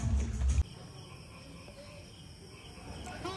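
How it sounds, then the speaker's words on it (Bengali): Crickets chirp at night at a quiet farm-house resort near Kolkata, a steady faint high trill running throughout after a brief louder burst of noise at the start. "চারপাশটা একদম চুপচাপ আর ঝিঝি পোকার ডাক।"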